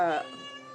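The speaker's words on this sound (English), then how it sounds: "That's my cat." A single short cat meow, close and fairly clear, fading into a soft tail.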